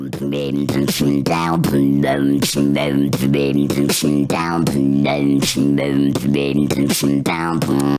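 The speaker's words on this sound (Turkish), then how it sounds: "Helyum kullanarak beatbox yapınca Ortaya böyle bir ses çıkıyor." Beatboxing by someone who has inhaled helium: rapid, rhythmic percussive mouth clicks and pops alternating with high, squeaky voiced tones in a steady close pattern.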